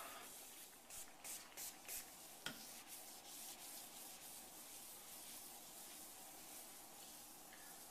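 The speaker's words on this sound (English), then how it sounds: "you want to spray and then take your fingers and roll it onto the edge of the stone" Granite sealer is sprayed onto stone in a few short, soft hissing bursts early on, followed by a faint, steady rubbing and brushing hiss that continues quietly to the end.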